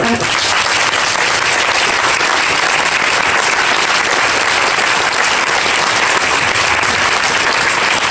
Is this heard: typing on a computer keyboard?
no